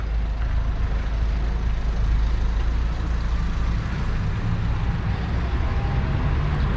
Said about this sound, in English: There goes my bus.